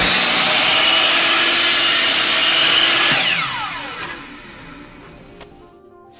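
Wood is sawn through after hammering failed to break it, with loud, continuous rasping strokes that slow and fade as the cut finishes, ending in a few faint knocks.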